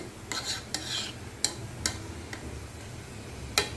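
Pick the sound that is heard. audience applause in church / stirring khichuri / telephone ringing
stirring khichuri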